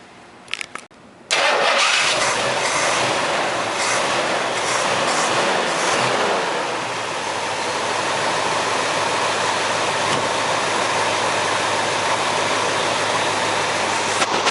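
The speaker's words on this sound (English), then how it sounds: "She idles really well, and we'll go ahead and fire it up and listen to it run a little bit." A 1972 Ford Mustang's 429 Cobra Jet V8 cranks and fires up after a brief quiet moment, then settles into a loud, steady, rumbling idle close to the listener.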